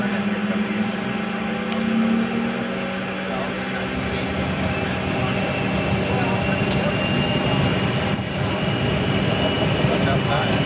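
A passenger airplane's jet engines spool up and roar steadily as the plane rolls down the runway for takeoff, heard from inside the cabin as a continuous loud drone with a low hum.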